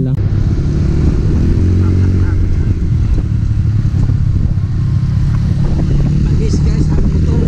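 A four-wheeled ATV engine runs steadily and loudly throughout, rumbling with a slight rise in revs, while voices talk over it, at Green Lava in Albay, Bicol.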